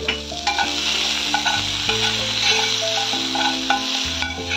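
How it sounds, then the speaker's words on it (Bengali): Onion and black cumin seeds frying in oil, close and loud sizzling with stirring strokes of a spoon against the pan, continuous without any talking. "পেঁয়াজটা ভালো করে ভেজে নেব"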